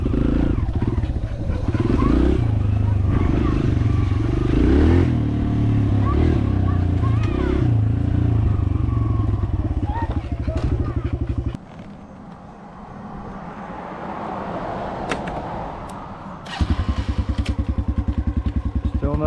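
A Kawasaki KLX dirt bike engine revs loud and close, its steady roar dropping off partway through and then surging back, with people talking over it.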